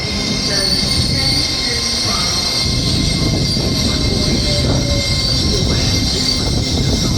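An Azuma train moves through Doncaster station, its wheels squealing loudly over a continuous rail rumble and clatter, close by throughout.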